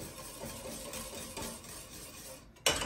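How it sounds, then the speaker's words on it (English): A flour-thickened condensed soup base being stirred in a pan, with a steady scraping and swishing of the utensil against the pan, moderately close, and a sharper knock near the end. "You do want to keep stirring."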